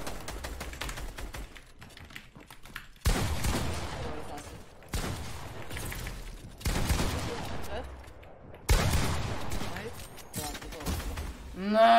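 Gunfire in an online shooter video game played as a duo, heard as repeated bursts of rapid shots in several separate volleys, some loud and some fainter, with players talking over it.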